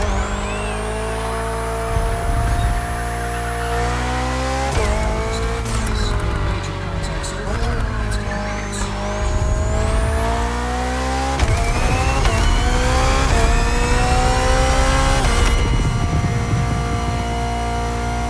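Race car engine of a BMW hybrid V8 in the driving game The Crew Motorfest, a loud sustained roar rising through gear shifts with whining pitch sweeps, running the whole time under a speaking voice.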